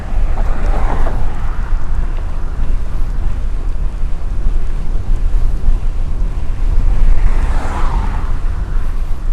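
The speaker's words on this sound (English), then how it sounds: "Lots of wind." Strong wind buffeting the microphone during a road bike ride on a Marin DSX 2, a loud, continuous rumbling roar with gusty swells and no voices.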